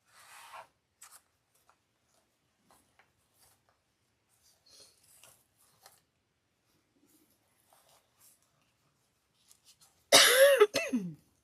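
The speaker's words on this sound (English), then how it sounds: "The further I get into the project, the more I'll cough because I'm so dry." A person working on a red cowboy-themed storm door wreath lets out one loud, harsh cough burst near the end, after a long quiet stretch of faint scattered handling noises.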